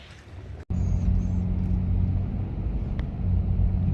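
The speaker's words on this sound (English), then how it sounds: "The truck runs good." A Nissan truck engine idles with a steady low rumble close by, briefly cutting out after a sharp click near the start before the hum resumes evenly.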